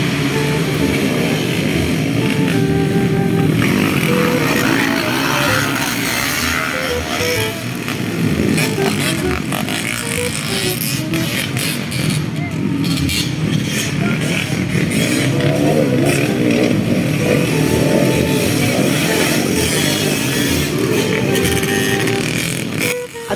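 Motorcycle engines roar and rev during a flat track race, a continuous loud mechanical drone with rising and falling pitch and some clatter, sustained throughout.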